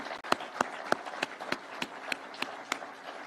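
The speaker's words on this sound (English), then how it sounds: "please let us clap for those great people" An audience at a State House event applauds commission and independent office leaders, with a steady run of sharp, evenly spaced claps that sounds somewhat thin and moderately distant, with no voices over it.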